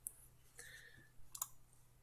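A few sparse, crisp clicks from computer keyboard keys, close and fairly quiet, spaced irregularly over a short moment with no speech.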